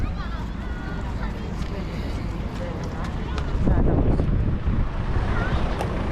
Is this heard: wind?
yes